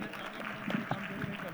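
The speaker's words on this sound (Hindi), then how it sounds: "जोरदार तालियां हो जाए भाई इनके लिए" Brief applause from a class audience at a Hindi-language Gurukul session, moderate and somewhat scattered clapping mixed with talk and crowd murmur.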